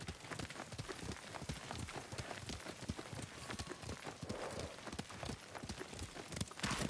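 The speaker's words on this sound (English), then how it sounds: "Lord Sakai taught me to ride a horse." A horse gallops with rapid, steady hoofbeats in the video game Ghost of Tsushima, quiet and continuous, with no talking.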